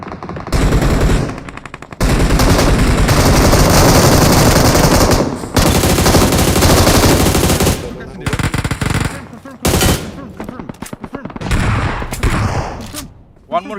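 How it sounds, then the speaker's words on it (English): Sustained bursts of automatic gunfire from a PUBG Mobile match, loud and close, firing in long rapid strings with brief gaps between volleys, alongside occasional player talk. "They're shooting me from here"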